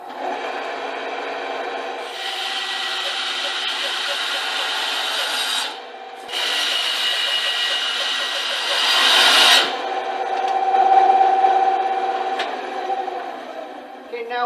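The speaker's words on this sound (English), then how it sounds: "now I'll just cut them off to an arbitrary length using the bandsaw." A bandsaw cuts pieces of a wooden Forstner bit holder with a steady, continuous rasping whine. The cut breaks briefly near the middle, then resumes and shifts pitch as the blade works through the wood.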